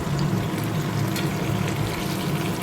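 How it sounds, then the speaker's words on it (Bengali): Chunks of potato fry in hot oil with turmeric and chili in a home kitchen pan, giving a dense, steady sizzle and crackle close by, with no voices over it. "আলুগুলো ভাজা ভাজা করে নিচ্ছি"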